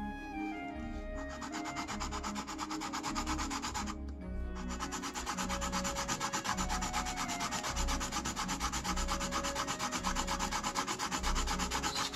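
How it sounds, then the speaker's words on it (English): A Hot Wheels Dodge Charger's metal car body is ground back and forth on fine sandpaper laid on a desk, a steady close rasping scrape that runs continuously with one brief pause. "I keep grinding on it until I can feel the metal body starting to bite on the sandpaper"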